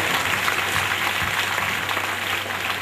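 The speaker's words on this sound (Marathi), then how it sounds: "जोरदार टाळ्या" Loud, steady applause from a school audience during a lamp-lighting ceremony at a parents' day event, a dense wash of clapping that holds constant from start to finish with no voices on top.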